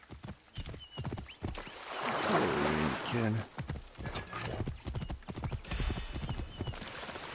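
Horse galloping in the Assassin's Creed Origins video game, a steady rapid clip-clop of hooves running throughout amid game ambience, with someone talking over it.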